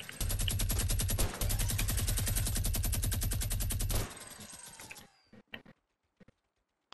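Rapid automatic gunfire blasts in a video game match, a dense sustained burst for about four seconds with a brief gap, then fading to near silence with a few faint clicks.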